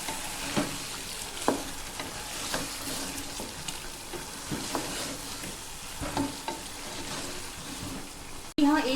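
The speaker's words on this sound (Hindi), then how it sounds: "इसके अंदर मैं सारी नल्लियाँ शामिल कर दूंगी एक एक करके। इसे मिक्स करेंगे हम।" Nalli nihari meat shanks fry and sizzle in a pot while being stirred, with steady sizzling broken by periodic scraping stirs and the knock of pieces being turned, ending in a louder clatter.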